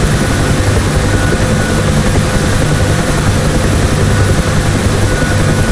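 A UH-1 Huey helicopter in DCS World accelerates from a hover into forward flight, its rotor thumping in a loud, steady rhythm over a constant engine roar, close and without speech.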